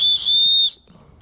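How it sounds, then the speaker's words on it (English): A shrill, steady whistle blast from the whistle on an Oakvue survival shovel multitool, loud and close, lasting under a second before cutting off into quiet. "It's got a whistle, unscrews,"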